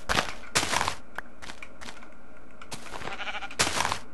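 Sheep in Minecraft bleat several times, short nasal calls spaced a second or so apart, mixed with light clicking game sounds and no talking.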